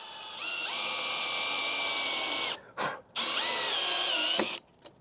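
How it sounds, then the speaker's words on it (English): A power drill drives countersunk screws into deck boards on a garage build, the motor whining steadily for a few seconds, briefly stopping, then running again before a sharp stop, close and loud with no talk. "We're going to screw it down. We're going to face screw it."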